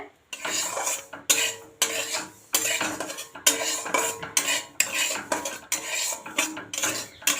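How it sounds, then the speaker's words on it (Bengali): Semolina dry-roasting in a pan for sooji halwa, stirred with a metal spoon that scrapes and clinks in repeated bursts of about a second, close and clear with short quiet gaps between strokes. "এরকম লাল করে সুজিটাকে ভেজে নিতে হবে"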